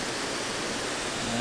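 A twin waterfall on the Isle of Mull pours in a steady, broadband rush of falling water, close and constant, with no break across the moment.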